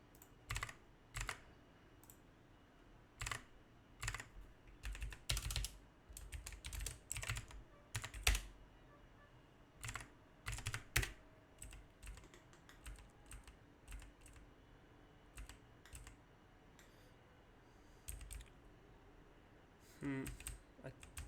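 Computer keyboard typing in bursts of rapid, close clicks with short pauses, while programming a C++ database engine; no talk.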